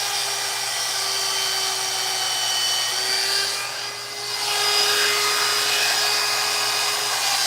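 A chainsaw whines steadily while carving wood, a sustained high buzzing that dips briefly in the middle as the cut eases, then returns at full strength; no talking.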